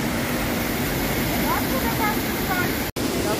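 Continuous rushing roar of Pistyll waterfall in Wales, loud and close, a dense unbroken wash of noise with one brief dropout near the end.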